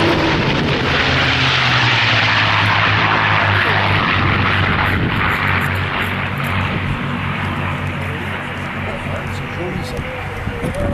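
A P-51 Mustang piston-engined fighter makes a loud, sustained pass at the Duxford airshow, its propeller drone filling the whole stretch and slowly easing off toward the end, with a commentator's voice audible beneath.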